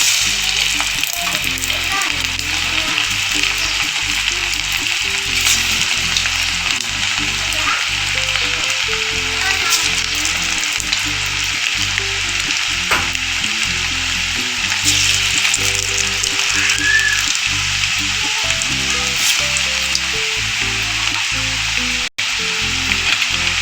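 Homemade kurkure dough frying in hot oil, a loud continuous sizzle and bubbling that runs steadily with a light rhythmic stirring pulse underneath.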